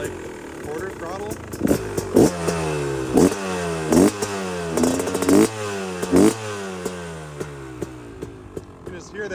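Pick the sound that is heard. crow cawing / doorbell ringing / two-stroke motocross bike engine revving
two-stroke motocross bike engine revving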